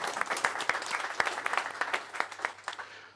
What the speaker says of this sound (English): So round of applause to everyone.